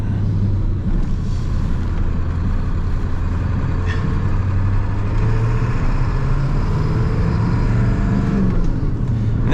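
A Ford F250 pickup with 124K miles, its engine pulling at quarter throttle, gives a steady loud low drone that rises slowly in pitch, heard close and continuous without voices.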